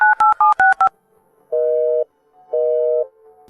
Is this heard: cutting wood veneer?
no